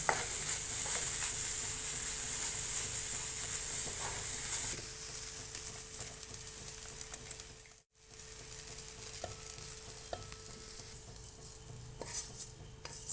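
Grated coconut stirred into bottle gourd and lentil usili frying in a pan: a soft, steady sizzle with faint scraping and stirring clinks, fairly quiet and without talk.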